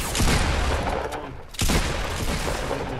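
Intense gunfire in the video game Fortnite roars as a dense, continuous barrage of shots, with a brief dip in the middle before the heavy firing resumes.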